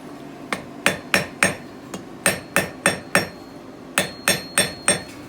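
A hammer forges a fire steel, refining it down toward the point with about fifteen crisp, ringing blows at a steady rhythm and a few short pauses.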